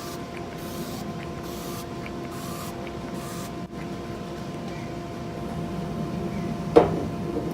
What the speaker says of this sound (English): Then last but not least, some setting spray.